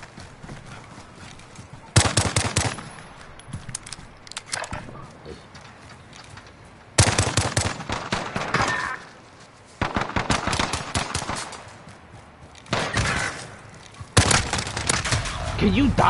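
Video-game gunfight with loud, close bursts of rapid automatic fire arriving in several separate volleys, broken by quieter gaps where someone talks.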